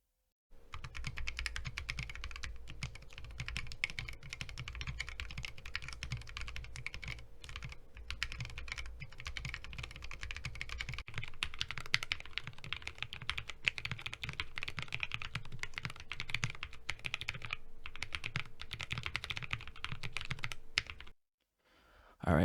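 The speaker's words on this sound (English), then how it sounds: "that was the sound test of the alpacas in the stock case and the modded case" Continuous rapid typing on a Lily58 split keyboard fitted with Alpaca linear switches, dense clacking keystrokes close up at a moderate level, with a faint steady hum underneath and no talking.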